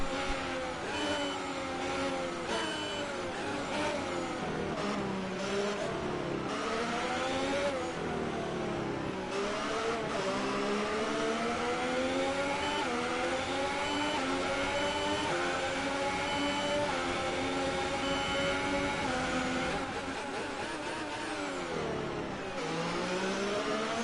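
A Formula 1 car engine in the F1 2018 racing game, a Sauber Alfa Romeo at race pace, screaming steadily with rising and falling revs through gear changes, loud and continuous.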